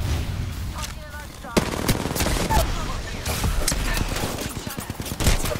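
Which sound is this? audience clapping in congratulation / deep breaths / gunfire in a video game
gunfire in a video game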